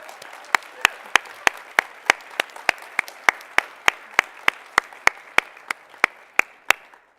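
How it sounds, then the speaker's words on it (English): An audience at a computer science competition applauds the semifinal teams. A sharp, evenly spaced clap repeats about three times a second over a soft bed of scattered clapping, steady for several seconds. "Please take a moment to applaud our semifinal teams who competed this year."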